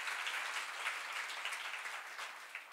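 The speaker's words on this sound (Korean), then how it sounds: "박수로 맞아주세요" An audience at a Bible lecture on Isaiah claps steadily and evenly for a few seconds, a dense patter of hands heard from a moderate distance.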